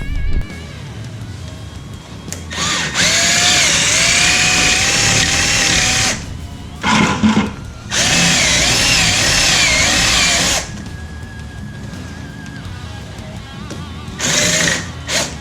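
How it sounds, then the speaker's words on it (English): A power drill works on a rear suspension bushing of a 1968–72 Chevrolet Nova during a Caltracs install, running in loud sustained bursts with rising and falling whine, stopping briefly between runs. "So I'm gonna try that drill trick again on this"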